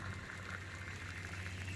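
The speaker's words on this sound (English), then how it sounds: "Starts pushing out what's left of the water." Water pushing out of an open spigot at an RV wet bar during winterization, a steady close hissing, bubbling flow that holds evenly throughout with no voices.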